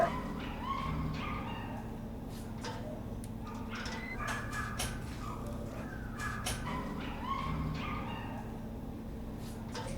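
A frightened pug whimpers and yips in repeated high, thin whines over ten seconds, close by over a low, steady background rumble.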